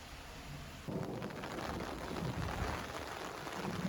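Heavy rain pours steadily while a low rumble of thunder rolls in about a second in and lingers beneath the downpour.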